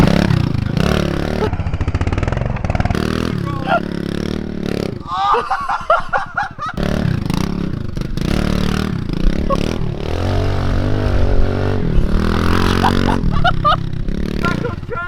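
Small pit bike ridden in second gear around a homemade garden dirt track, its engine buzzing and revving unevenly with brief throttle drops, close by and loud, under steady talk.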